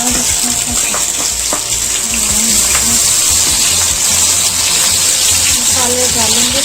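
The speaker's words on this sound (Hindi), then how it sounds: "नाज़रीन ऑयल गर्म हो गया, इसमें ना प्याज डालेंगे" Sliced onions dropped into hot oil for a mutton mince with peas and potatoes, giving a steady, close, bright sizzle that runs throughout while someone talks over it.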